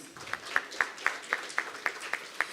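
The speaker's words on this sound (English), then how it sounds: "You all are kindly requested to stand up and give a big round of applause." Sparse applause from a seminar audience on the arrival of a member of parliament, heard as about nine distinct, fairly faint claps in a steady rhythm over a quiet hall.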